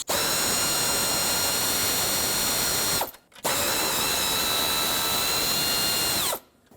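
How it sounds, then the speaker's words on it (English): A power ratchet or drill with an 8mm socket removes two retaining bolts on a 2008–2010 Ford F-250 6.4L diesel, giving two close, steady whirring runs of about three seconds each with a brief pause between. "Use an 8mm socket and remove both of the retaining bolts."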